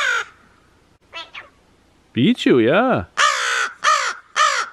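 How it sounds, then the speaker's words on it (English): Ravens call high overhead above an outdoor aviary: a run of loud, harsh, drawn-out caws arriving in a close series after a quiet stretch, with a brief spoken voice near the start. "Two ravens went by high up"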